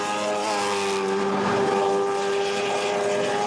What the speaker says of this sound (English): And just listen to that exhaust note.